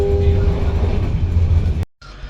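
An Indonesian commuter train running on its line, a steady loud rumble of wheels and carriage noise heard from inside before cutting out abruptly.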